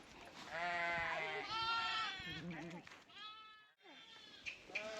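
Sheep bleating in a flock resting in cool shade, several overlapping calls near and loud, one long wavering cry followed by shorter ones.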